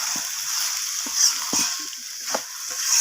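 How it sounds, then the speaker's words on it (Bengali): A pan of cabbage mixed with garam masala is stirred over a gentle sizzle, a few distinct scraping thumps of the spoon standing out against a steady soft hiss, with no talking. "বাঁধাকপির সাথে গরম মশলাটাকে মিশিয়ে নেব।"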